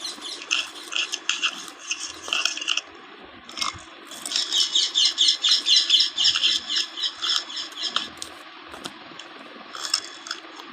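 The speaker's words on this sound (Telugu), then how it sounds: "పూర్తిగా కలిసిపోయేలాగా స్పూన్తో కానీ వీలుంటే చేతితోటి నీట్గా కలుపుకొని" A spoon clinks and scrapes as a homemade sugar-control powder is stirred in a bowl, with bursts of rapid rattling strokes broken by short pauses.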